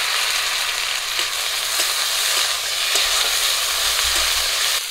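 Ground ginger and cumin paste sizzling in hot oil in a pan, added after onion and green chili, a loud steady hiss with faint stirring clicks throughout, no voices.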